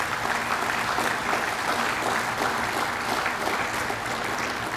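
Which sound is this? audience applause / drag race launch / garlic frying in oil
audience applause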